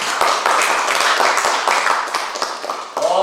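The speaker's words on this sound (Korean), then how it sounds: "우리 그분을 위해서 박수 한번 줬으면 좋겠어요" A church congregation claps for pastors during a service: loud, dense clapping continues steadily throughout with individual claps standing out, easing slightly toward the end.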